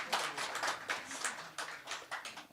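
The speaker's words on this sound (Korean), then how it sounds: "박수." Audience applause after a student's speech, a brief, fairly quiet burst of dense clapping heard alone.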